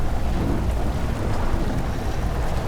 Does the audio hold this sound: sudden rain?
yes